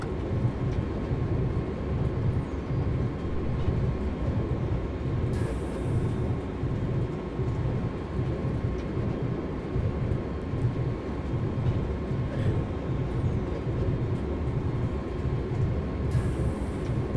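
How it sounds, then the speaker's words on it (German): A train in Train Simulator 2018 runs through the Gumpoldskirchen tunnel on the Südbahn line, giving a steady, loud low rumble and roar that holds for the whole stretch, with faint brief clicks on top and no talking. "Unser Zug durchfährt jetzt den Gumpoldskirchener Tunnel."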